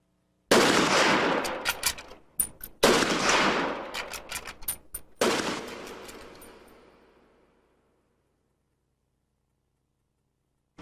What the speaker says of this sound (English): Oswald would have had to make all 3 shots within the 5 seconds